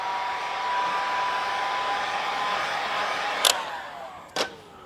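A heat gun warms a vinyl hockey stripe on a Bronco Raptor hood. It gives a steady, moderately loud blowing hiss that continues throughout, with two brief sharp clicks near the end.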